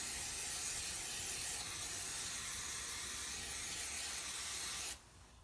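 A long continuous hiss of an aerosol spray can, loud and close, cutting off abruptly near the end.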